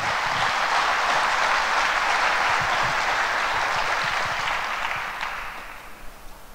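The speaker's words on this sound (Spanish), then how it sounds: "Y este aplauso es para Él." A church congregation breaks into full, steady applause that holds strongly before tapering off and thinning into a few last claps.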